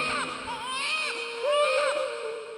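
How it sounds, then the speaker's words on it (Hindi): A baby, the infant Krishna, cries inside Nanda's house, with rising and falling wailing cries in two swells that stand out close and clear. "नंद जी के भवन के भीतर से लाला के रोने की आवाज आई।"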